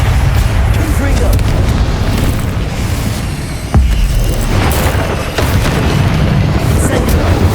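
Confringo blasting curses explode in rapid succession during a Hogwarts Legacy battle, producing a loud, dense wall of rumbling booms that dips briefly and then surges again with a sharp new blast.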